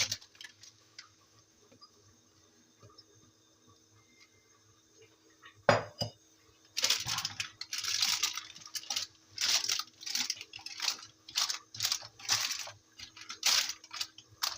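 Chicken and vegetables in tarhana sauce are poured into a glass baking dish lined with baking paper. After a quiet start and a single thud, close, irregular bursts of wet plops, scrapes and clinks follow.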